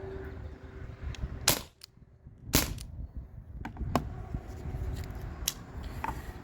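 Modified Umarex Brodax airgun running on an HPA tank, valve pin drilled with extra holes and spring lightened: several sharp, loud pneumatic cracks spaced irregularly over a quiet mechanical background, with fainter clicks between shots.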